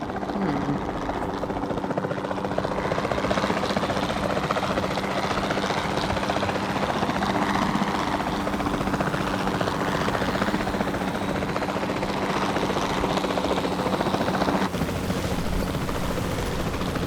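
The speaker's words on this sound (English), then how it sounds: "the sensible thing is to take a capture team helicopter" Capture team helicopter in the Jurassic World Evolution 2 campaign, a steady loud rotor thump and turbine whine running continuously, with a low rumble beneath and faint voices mixed in.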